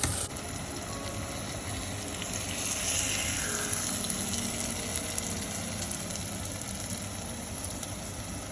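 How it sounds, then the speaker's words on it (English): Half a cup of water is poured into a sizzling masala in a pan, the hiss swelling into a steady bubbling simmer that continues evenly to the end. "I'm just adding about half a cup of water"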